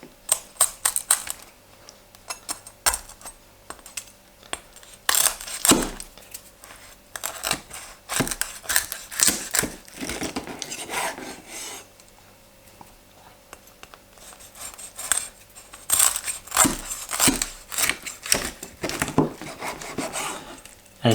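Crispy oven-cooked lechon kawali pork skin crackling and crunching as it is cut or pressed, a scattered series of sharp, dry snaps and crunches, close and fairly quiet with brief pauses.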